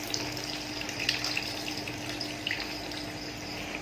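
Tamarind water pours into a pan while a Burmese-style duck curry cooks, a soft continuous liquid splash and trickle heard close but faint, with no talking.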